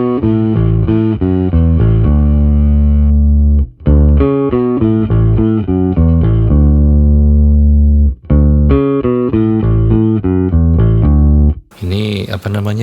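An electric guitar runs through a Headrush unit without the fuzz effect, giving a dry, clean tone as a loud, close series of picked notes and sustained chords with short gaps, ending in a brief scratchy noise.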